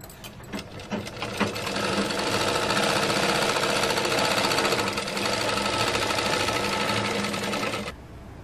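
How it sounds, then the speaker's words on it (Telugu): Sewing machine stitching cloth for a woman's top, a fast continuous mechanical chatter that starts in short bursts, then runs steadily for several seconds before stopping abruptly, close and alone with no talk. "ఇక్కడ నుంచి మనం ఇలా స్టిచ్చింగ్ చేసేసుకుందాము."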